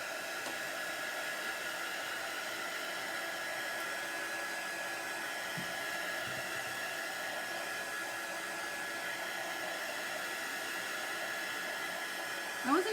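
A hair dryer blows steadily on chalk paste spread over a T-shirt, a constant, even whooshing drone held for the whole stretch with no pauses.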